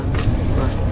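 A trawler boat engine drones steadily and loudly with a thick, unbroken low rumble, close by for a brief moment.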